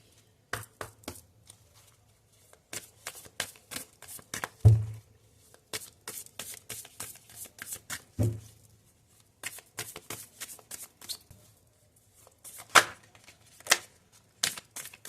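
A deck of tarot cards is shuffled by hand in quick riffling bursts, near and fairly quiet, with a few soft thumps as the deck is tapped and squared between the runs.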